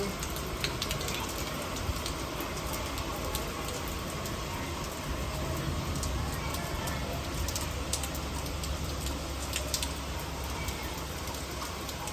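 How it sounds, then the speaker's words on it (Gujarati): Steady rain falls in Junagadh during the first monsoon shower, making an even, moderately faint wash of noise that continues without a break and has no clear speech over it. "જો આકાશમાં જૂનાગઢમાં અત્યારે એકદમ વરસાદ ચાલુ છે."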